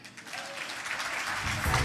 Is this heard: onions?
no